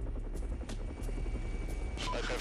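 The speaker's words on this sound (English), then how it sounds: "The chopper lands again" A police helicopter comes in to land during a pursuit of a suspect on foot, and its rotors throb loud and steady the whole way through.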